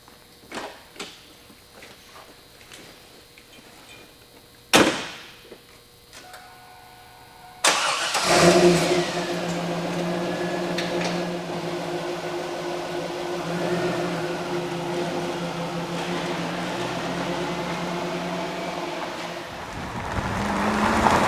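A Pontiac Trans Am WS6 starts with a sharp crank and catch, then settles into a steady, loud engine rumble as it pulls away and drives on, with a few faint clicks and knocks before the start.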